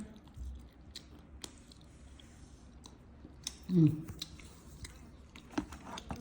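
Someone chews dates softly up close, with faint wet mastication, small clicks and a few louder squishy bites spread over several seconds.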